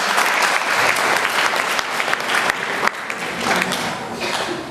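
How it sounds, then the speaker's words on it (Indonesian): A hall full of students applauds a speaker at a school motivation training session, the clapping dense, loud and steady throughout without a break. "Beri aplaus untuk Mas Novan"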